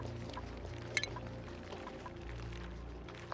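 Water pouring from a pipe in the Oxygen Not Included video game, a soft continuous trickle with faint drips at low level, sitting under quiet game music.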